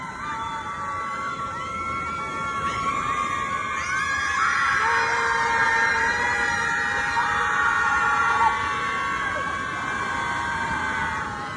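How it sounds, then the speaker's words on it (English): Women at a protest hold long high shrieks and wails that overlap in a sustained chorus, rising and falling together like a siren over steady outdoor background noise. "These women that are screaming."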